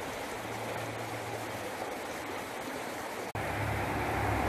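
A river flows steadily outdoors among vegetation, a constant broad rushing wash of water with a low rumble underneath, briefly interrupted by a sharp cut before the flow resumes.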